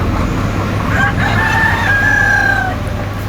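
A large rooster on a poultry farm crows one long, loud cock-a-doodle-doo over a constant low hum and steady background noise.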